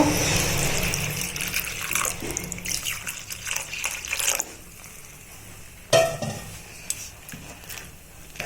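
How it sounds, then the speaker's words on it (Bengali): Water pours into a cooking pan while making Bengali cauliflower masala jhal pithe, a loud continuous splashing gush for about four seconds that then drops to a quieter trickle with a brief clatter near the end. "জলটা কম হয়ে গেছে, আমরা এর মধ্যে আরো একটু জল দেব।"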